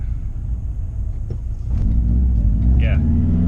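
Subaru Impreza RallyXT car idling and then rising in a steady low engine rumble with no rattle, heard close up, with a faint clack partway through.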